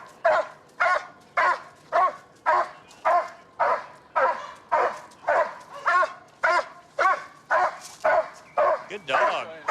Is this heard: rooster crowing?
no